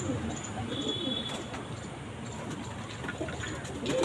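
Golden-eye racing pigeons coo softly inside a loft, low murmuring calls repeating faintly under a background of ambient noise.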